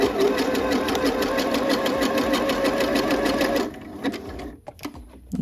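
A sewing machine stitches a seam on a top, a fast steady mechanical whir running loud and close for about three and a half seconds before stopping, followed by a few soft handling clicks and bumps.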